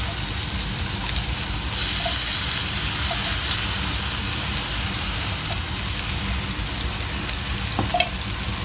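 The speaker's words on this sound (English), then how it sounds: "I'll fry this in the ghee a little bit." Chopped red onion frying in hot ghee for a layered chicken biryani, a steady close hiss and crackle of sizzling oil running throughout with faint stirring clicks.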